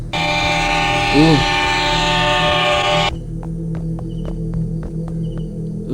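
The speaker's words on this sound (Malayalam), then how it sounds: "ട്രെയിൻ വന്ന പോലെ കാണിച്ചിട്ട് ഇപ്പോൾ ട്രെയിൻ കാണാനില്ല" In a horror video game, a loud, sustained train-horn drone holds for about three seconds, then cuts off, leaving faint rhythmic clacking like wheels on rails.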